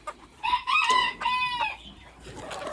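Chickens and roosters in a pen, near and loud, with a rooster crowing twice in drawn-out calls over scattered clucking and background squawks.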